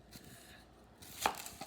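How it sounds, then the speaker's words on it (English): A knife cuts an onion on a board, a couple of quiet taps ending in one crisp, firmer chop, close and faint with no voice. "So I'm just gonna quickly cut up this onion."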